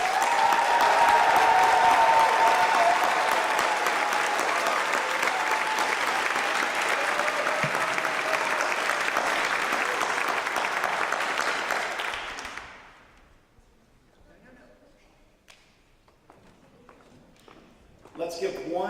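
A commencement audience breaks into loud, sustained applause for the graduates, with a dense wall of clapping lasting about twelve seconds before it abruptly dies down to a quiet hall with faint rustling and a voice returning at the end.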